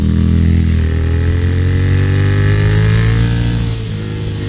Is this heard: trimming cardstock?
no